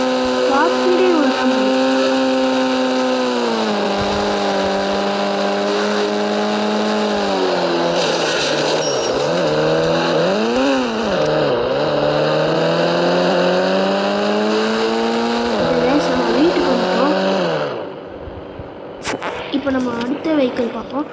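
A sports car engine from the mobile game Indian Bike Driving 3D drones loudly with a strong harmonic whine, pitch rising and dipping as it revs, then cutting off near the end to a few short bursts.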